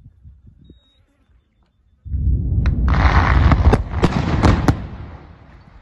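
A blast fires in an open pit mine after a short quiet, erupting into a loud, sustained rumbling roar with several sharp cracks layered on top.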